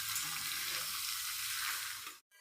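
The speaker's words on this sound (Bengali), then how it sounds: "সবজিটা দেখছেন অল্প অল্প ভাজা হয়ে এসছে, আরেকটু ভাজা হবে।" Mixed vegetables, including papaya, beans, carrot, eggplant and split green chillies, fry over a high gas flame in a pan, giving a steady close sizzle that cuts off abruptly near the end, with no voices present.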